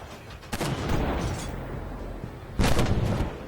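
Rapid cannon fire from an LAV 300 armored vehicle in Armored Warfare, with two loud bursts of booming shots separated by a rumbling lull, each burst sharp and heavy, with no voices.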